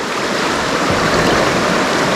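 Deep river water rushes in a continuous loud broadband roar at a rough enduro trail crossing, with no voices in the foreground.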